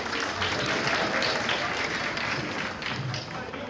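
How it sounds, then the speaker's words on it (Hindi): An audience at an International Nurses Day event applauds after a performance, a continuous, even roar of many hands clapping at a moderate level throughout. "तो एक बार जोरदार तालियां हो जाएं।"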